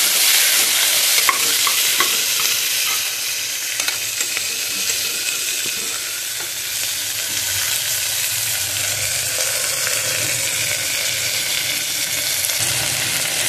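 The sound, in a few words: stirring moong dal khichdi in the pot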